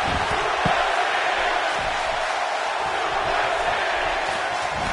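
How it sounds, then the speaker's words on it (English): A packed wrestling arena crowd in a WWE video game roars in a steady, dense wall of cheering that holds at an even loudness throughout, with no clear voices standing out above the din. "This capacity crowd starting to sense the end is near"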